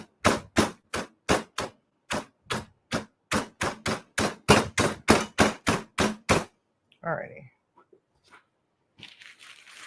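Pork rinds used as a low-carb breadcrumb substitute are crushed in a rapid run of about twenty sharp, loud crunches, close up and alone. The crunching stops abruptly and is followed by a brief spoken word and faint rustling.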